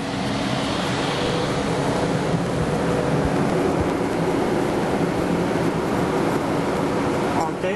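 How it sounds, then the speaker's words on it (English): A Cessna Citation II business jet passes overhead near San Antonio while banking through a gentle half standard rate turn, a steady broadband roar and rush that holds at an even level throughout with no clear rise or fade. "It's a jet."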